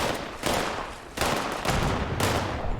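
Grenade explosions in Fallout 76 land in three heavy blasts about half a second apart, each a broad bursting roar trailing into rumble, moderately loud with no talk.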